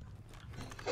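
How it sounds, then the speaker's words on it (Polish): Footsteps in the tactical shooter game Ready Or Not, a brief run of soft, muffled steps under low ambient rumble, growing slightly louder at the end. "Kroki."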